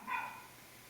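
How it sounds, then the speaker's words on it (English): A dog gives a single short bark in the background, faint and distant, then the room goes quiet. "don't mind the dogs that are barking in the background"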